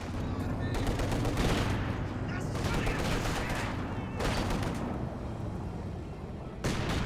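Heavy battlefield gunfire in the Company of Heroes 2 strategy game, dense bursts of machine-gun fire and artillery blasts in loud waves, with voices speaking under the shooting.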